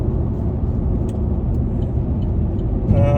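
A car drives along a highway on a long Texas-to-Florida road trip, its steady engine and road rumble droning close and unbroken, with a brief tonal whine rising near the end.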